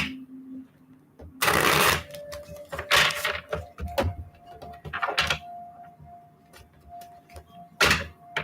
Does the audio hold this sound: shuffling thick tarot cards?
yes